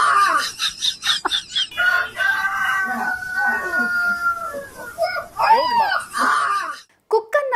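A dog mimics a rooster's crow, filmed on a phone by an auto-rickshaw driver, its rising, wavering crow-like calls heard under a narrator's steady talking.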